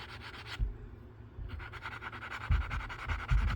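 Sanding an aquamarine bead earring by hand: a steady scratchy rubbing close up, with louder rough strokes near the end and a brief pause early on.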